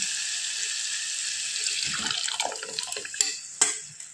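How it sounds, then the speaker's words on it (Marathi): Water, two glasses' worth, is poured into a pot of cooked dal and spiced oil: a close, steady splashing stream that ends in a few final gurgles and splashes, with no voices. "2 ग्लास पाणी मी यात टाकून घेतलेलं आहे."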